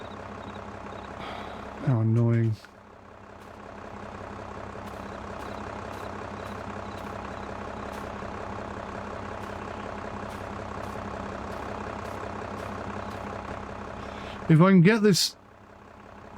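A tractor engine in a realistic farming simulator idles with a steady low drone, punctuated at start and end by short rising mechanical whines; someone talks briefly over it.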